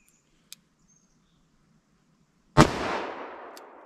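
A single sharp, loud gunshot rings out from a .357 Magnum revolver with a 4-inch barrel, fired close by and followed by a decaying outdoor echo. A faint click comes earlier in near silence.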